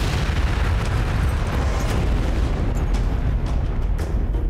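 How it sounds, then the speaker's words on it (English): Massive First World War mines, packed with explosive and detonated beneath German positions in 1917, produce a sustained deep roaring rumble, loud and continuous throughout with no distinct single blast. "the mines are detonated."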